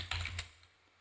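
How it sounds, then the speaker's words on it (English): A few quick keystrokes on a computer keyboard, typing into a search bar, close and crisp, followed by quiet. "So in the search bar type mail"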